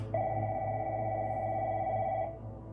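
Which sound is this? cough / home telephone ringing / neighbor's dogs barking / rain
home telephone ringing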